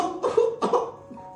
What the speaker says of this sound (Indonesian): Liko batuk ya.